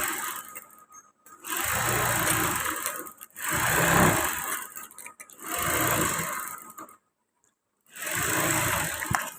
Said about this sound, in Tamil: இப்போ நான் ஸ்டிச் பண்ணுறேன் ஃபுல்லாக லைனிங்கோட ஜாயின் பண்ணி